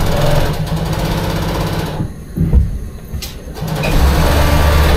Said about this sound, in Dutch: professioneel, mooie naaimachines.